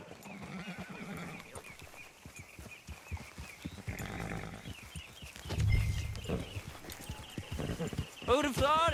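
Horse hooves clip-clop steadily as a rider sets off toward a beach in the Western video game Red Dead Redemption II, under ongoing male dialogue, with a whinny and other game sounds near the end.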